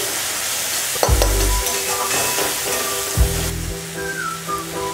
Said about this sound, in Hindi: जब तक हमारा मसाला फ्राई हो रहा है